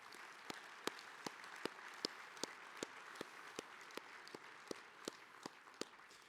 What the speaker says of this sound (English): Let's give Dish Wireless a round of applause for sponsoring today's luncheon